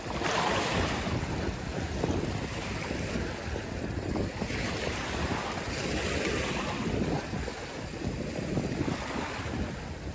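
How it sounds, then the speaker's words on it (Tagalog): Strong wind roars steadily across the microphone at sea off Isla Verde during fishing, with waves and water rushing underneath, loud and continuous throughout. "Malakas yung hangin"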